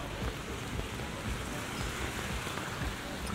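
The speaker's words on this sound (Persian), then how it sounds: "بعد صدا بارون داره میاد" Steady, even rain pours in a hiss with a low patter beneath it, a continuous wash of sound with no voices.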